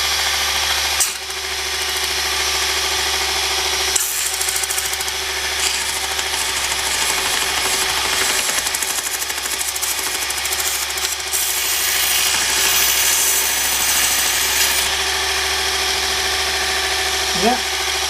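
Electric micro belt sander grinding a protruding bit of plastic, a continuous loud abrasive whine and rasp lasting throughout, with a person talking over it.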